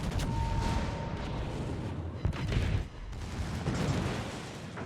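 Battleship main guns firing in World of Warships, Missouri against Chkalov: a sustained rumbling barrage of heavy booms and rolling blasts, loud and dense throughout with little pause.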